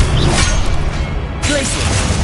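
A Confringo spell cast in Hogwarts Legacy bursts with a loud whooshing blast and crackling impact, followed by a second fiery surge under continuous game noise.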